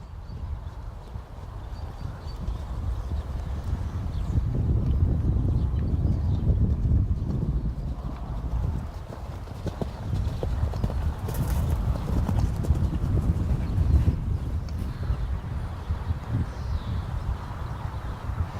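A young horse canters toward its first jump, hooves thudding in a steady three-beat rhythm close by, with brief rustling and wind noise around the regular footfalls; no talk over it.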